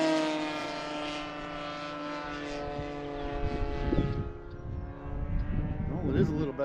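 A Great Planes Ultra Stick RC plane with an OS GT 15 gas engine flies overhead, its steady droning buzz with sustained harmonics shifting in pitch, while people talk nearby in the second half.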